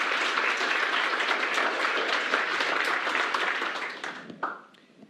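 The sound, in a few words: audience applause for a presentation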